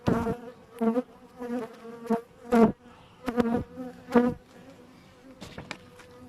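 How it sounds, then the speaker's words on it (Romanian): Honey bees buzz close by at an open hive during an inspection, in short, intermittent bursts, loud swells of droning hum separated by brief quieter gaps. "Vede destul de mult albină."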